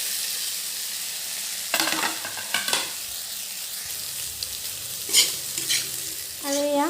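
Potatoes sizzle and fry in a hot pan with cumin, stirred with a spatula that scrapes and clinks against the metal in a few sharp strokes over a steady hiss.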